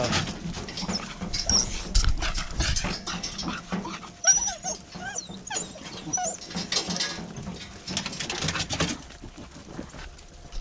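Several beagles whimper, whine and yelp excitedly nearby, mixed with scuffling and outdoor noise.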